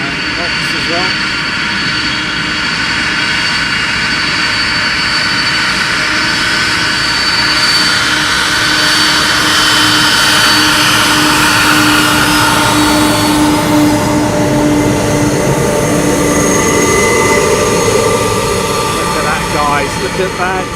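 An aircraft jet engine spools up airside at East Midlands Airport, a loud, steady roar and whine filling the whole stretch without a break, close by.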